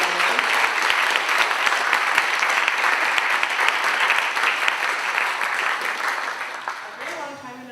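An audience applauds steadily for several seconds after a reading at a literary talk event, the dense clapping fading slightly toward the end.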